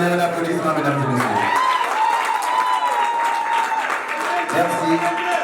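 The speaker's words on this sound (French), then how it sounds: "Donnez un applaudissement, mesdames et messieurs" Wedding guests applaud during the ceremony, a continuous wash of clapping heard alongside a sustained musical tone and some background voices.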